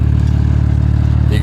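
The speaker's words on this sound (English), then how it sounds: "You can hear that audible distinction of the valves opening and closing." A BMW G80 M3 engine idles with its exhaust valves being operated, giving a loud, steady low rumble with a brief shift near the end.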